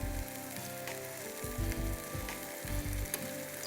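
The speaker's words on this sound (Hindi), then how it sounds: "लहसुन, उनको हमने छान लेना है जैसे ही फ्राई हो जाए" Garlic sizzles and fries steadily in hot oil in a pan, a close, continuous crackle with occasional louder stirring bursts and no talking.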